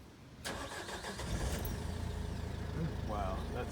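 A diesel van with high compression starting on a new lithium starter battery: a brief crank that catches quickly and settles into a steady, rumbling idle, heard close but fairly quiet.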